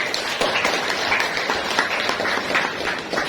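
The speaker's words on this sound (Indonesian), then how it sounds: "tepuk tangan untuk Sheryl" A classroom of students clapping for a classmate, a fairly even patter of many hands that holds steady for a few seconds at moderate loudness.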